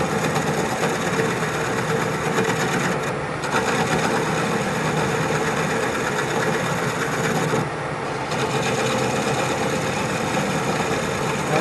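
A wood lathe turning a piece while a scraper works it gives a steady, loud mechanical whir with a rhythmic hum, dropping briefly twice as the cut eases, with no talking over it.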